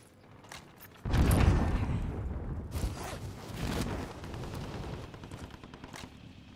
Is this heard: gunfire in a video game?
yes